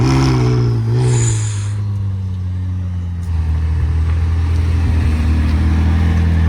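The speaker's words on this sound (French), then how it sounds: "Oh, le petit démarrage, très très beau." A McLaren sports car engine starts and settles into a deep, steady idle with a low rumble, a brief high whine at the start, close and loud.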